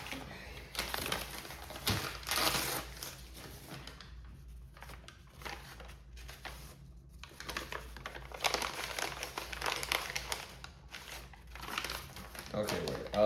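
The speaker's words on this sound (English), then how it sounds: "Gonna have to take another huge chunk of this paper over here." Paper being torn and crumpled while building a Rick's portal gun prop: close, crinkly rustling and tearing in repeated bursts with short pauses between, a person talking softly in places.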